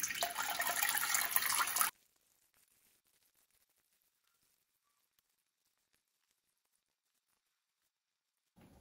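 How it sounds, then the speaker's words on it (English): Makgeolli brewed with Korean nuruk squeezed through a filter, giving about two seconds of close, busy liquid splashing and trickling, then near silence until a faint noise returns at the very end. "Okay, so that was easy to squeeze through the filter."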